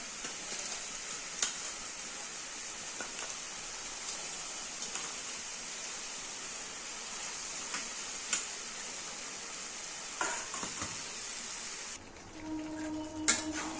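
Boiled chicken pieces sizzle and fry in hot oil in a home kitchen pan for a Bengali chicken kosha, a steady hiss with scattered spoon clicks and taps as the meat is stirred, then a brief quieter pause.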